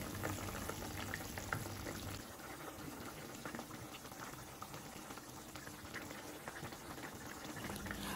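Tilapia fish curry simmering under a lid in a covered pan, a soft continuous bubbling and faint sizzle held at a low, even level throughout, with no voices.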